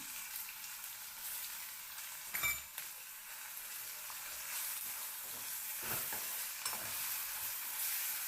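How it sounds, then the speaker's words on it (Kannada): Garlic paste sizzles steadily in hot oil in a pan while a Karnataka-style soaked chickpea palya is cooked, with a few stirring scrapes over the constant frying hiss and no talking. "ಬೆಳ್ಳುಳ್ಳಿ ಪೇಸ್ಟ್ ಹಾಕ್ಕೊತೀನಿ ಅದ್ರ ಘಾಟ್ ಹೋಗಬೇಕಲ್ಲ ಅಲ್ಲ ಬಳ್ಳಿ ತೆಗೆದು ಅದನ್ನು ಇದರೊಳಗೆ ಹಾಕೊಳ್ತೀನಿ ಎಣ್ಣೆ ಒಳಗೆ ಚೆನ್ನಾಗಿ ಫ್ರೈ ಆಗುತ್ತೆ"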